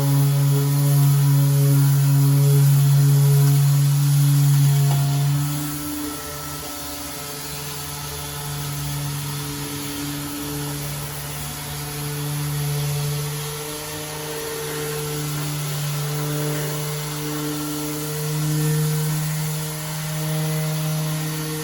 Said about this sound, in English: I'll just give you a demonstration now with the finish sander on how it works.